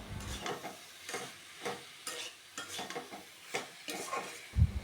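Banana stem curry being stirred in a pan during cooking, giving a series of intermittent scraping stirs with a light sizzle beneath, close and moderately quiet, with no talking.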